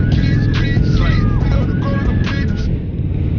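A 2016 Harley-Davidson Low Rider motorcycle engine rumbles steadily and loudly up close, a deep continuous low drone with wind buffeting, while someone talks over it.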